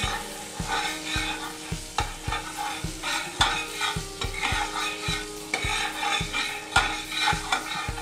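Butter melting and being mixed in a hot kadai, regular knocking and scraping strokes of a spoon against the pan over a soft sizzle, close and rhythmic.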